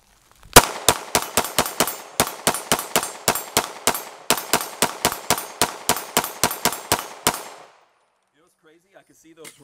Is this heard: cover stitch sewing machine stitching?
no